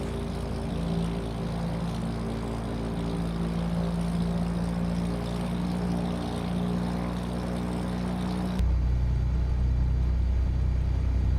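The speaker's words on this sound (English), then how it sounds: "This airplane even sounds better than the one in 2024." A Piper P28 propeller airplane engine in Microsoft Flight Simulator 2024 drones steadily and loudly for several seconds, then shifts abruptly to a deeper, rumbling tone near the end.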